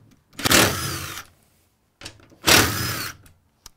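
Power driver with a 10 mm socket spinning out cover bolts on a Nissan LEAF battery pack, two close whirring bursts of under a second each, with a short click between them.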